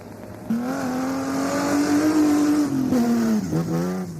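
A Citroën Visa Group B rally car competes at the 1987 Acropolis Rally in Greece. Its engine holds a loud, steady high-revving drone that shifts pitch near the end as it changes gear.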